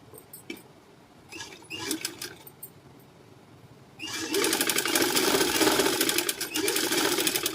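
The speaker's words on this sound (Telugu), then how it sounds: "ఈ ఎల్ షేపు జాయింట్ వరకు ఒక స్టిచ్ అయితే వేసుకోవాలి ఫస్ట్." Sewing machine stitching a halter neck collar up to an L-shaped corner joint, short intermittent bursts at first, then a loud steady run of close, rapid stitching.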